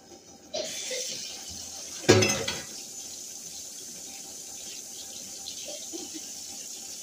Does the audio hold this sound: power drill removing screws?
no